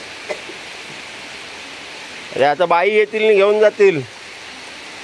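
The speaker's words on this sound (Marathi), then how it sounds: "जोरदारच पाऊस लागतोय" Heavy rain pours down outside a home in a steady, even hiss that runs through the whole stretch, while someone speaks over it midway.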